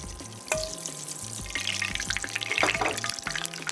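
Olive oil hits a very hot pan for risotto and sizzles and crackles steadily, growing louder and busier partway through, heard up close with no talk over it.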